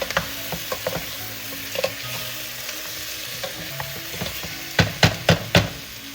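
A pot of sinigang with pork neck bones is stirred over heat, a soft steady sizzle broken by several scraping, clattering strokes of the spoon, louder near the end.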